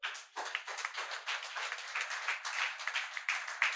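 A church congregation claps in acclaim of God, a dense, continuous burst of many hands clapping at close range for several seconds, with no talk over it.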